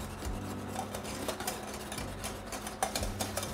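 A sauce of Worcestershire, cayenne pepper, honey and molasses for Georgia Gold chicken wings being stirred in a bowl, with soft rhythmic scraping and clinks of a utensil, faint and close, with no talking.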